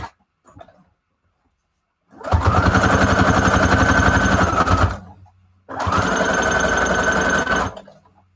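Sewing machine stitching fabric scraps for a junk journal cover, two loud, steady runs of rapid needle chatter separated by a short pause, close and with no talking.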